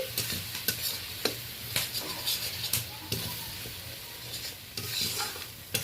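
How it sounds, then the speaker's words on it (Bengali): Ground spices being stirred and fried together in oil in a pan, rhythmic spatula scrapes repeating over a steady sizzle, close and fairly loud. "সব মশলাগুলো আমি এইভাবে মিশিয়ে নিচ্ছি।"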